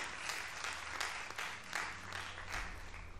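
Graduates at a primary school graduation ceremony clap for themselves in a steady spatter of applause that holds for a few seconds, fairly faint and distant, with no talk over it.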